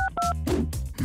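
Quick touch-tone dial beeps from a phone in a Poppy Playtime horror game, a few short paired tones followed by a brief burst of ringing, close and clear with no talk.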